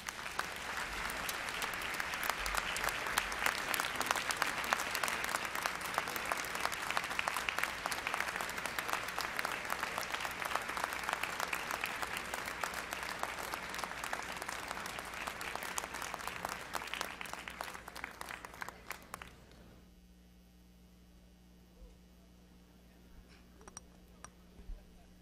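A convocation audience at a 2019 MLK event applauds, a dense, steady clatter of many hands sustained for about twenty seconds before it abruptly fades to quiet room tone.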